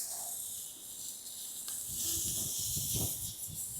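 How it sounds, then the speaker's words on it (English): Meat fat slowly renders over heat at a hot-tent campsite, a thin, steady high hiss that runs throughout, with a few soft low bumps near the end. "Right now, this fat is just slowly rendering, which is perfect."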